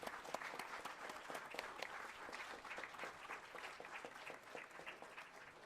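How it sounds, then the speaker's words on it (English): Audience applause fills the room, a steady dense patter of many hands clapping at moderate volume, continuous throughout with no voices over it. "Let's give them a round of applause."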